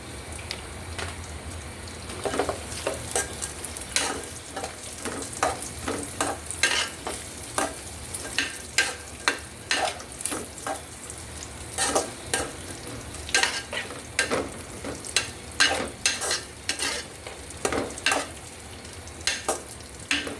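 Raisins and lightly browned nuts frying in a pan for zarda, a steady soft sizzle under repeated scraping stirs of a spatula, close and fairly quiet throughout.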